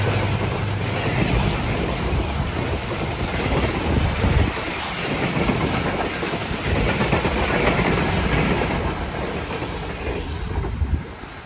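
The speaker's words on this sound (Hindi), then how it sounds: "अब पाकिस्तान एक्सप्रेस आ चुकी है JMU 30R 8203 के साथ।" The Pakistan Express passenger train, hauled by locomotive JMU 30R 8203, rumbles past Dabheji railway station with a continuous roar and rhythmic clatter of wheels over rail joints, loud and close for the whole stretch, no voices.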